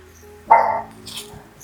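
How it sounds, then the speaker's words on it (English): A single sharp dog bark, close and fairly loud, followed by a brief softer sound in an otherwise quiet room. "sorry, that's my dog."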